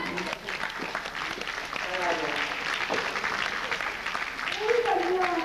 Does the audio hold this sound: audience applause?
yes